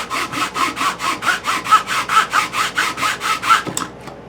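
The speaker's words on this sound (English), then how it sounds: "Got a little too rambunctious with the sawing, didn't we?" A hand saw cuts through pine wood in about fifteen quick, even back-and-forth strokes, close and rasping, ending with a small clunk as the cut finishes.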